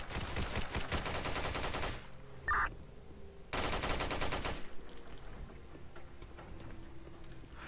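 Gunfire in a gang fight inside the SCP video game Site Apollo: dense, rapid bursts of machine-gun-like shots come in loud stretches, with quieter gaps and scattered ticks between them.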